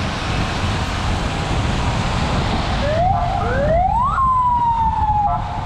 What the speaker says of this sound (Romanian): Poliția se grăbește la vreun accident.